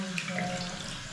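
Water runs steadily from a faucet into the sink of a newly finished secondary bathroom in a house in Jamaica, a close, constant splashing rush.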